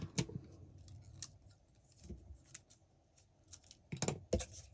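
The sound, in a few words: scissors cutting ribbon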